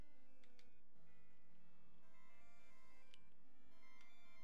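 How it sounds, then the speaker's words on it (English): A lost phone rings from inside a toilet in a spooky video game, a faint, steady electronic ringtone with a few brighter chimes, heard alone and without speech. "You hear something ringing from inside the toilet."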